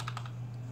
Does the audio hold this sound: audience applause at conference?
no